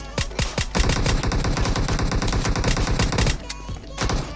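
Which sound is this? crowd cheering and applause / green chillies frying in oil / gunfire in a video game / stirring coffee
gunfire in a video game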